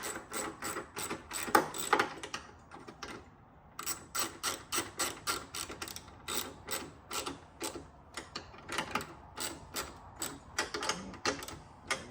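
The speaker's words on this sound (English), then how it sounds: "And you can tighten your nuts up here." Rapid ratcheting clicks come in bursts with short pauses as nuts are tightened on a carbon fiber engine compartment cover for a C8 Corvette, close up, with no talking.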